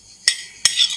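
Two sharp metallic clatters as carrots are dropped into a cooking pan with a little oil, spaced about a third of a second apart, followed by a brief soft rustle, close and clear.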